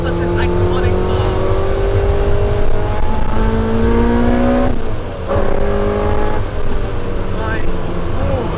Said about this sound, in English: I really like how the K24 engine, there's just an abundance of torque, and you can really just keep pushing this car.